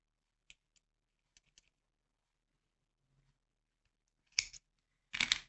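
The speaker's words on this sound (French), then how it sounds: "je vais couper mon fil" Scissors cut yarn after Tunisian crochet work: a few faint clicks early on, then two louder, closer snips near the end, with quiet gaps between.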